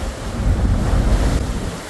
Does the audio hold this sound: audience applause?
no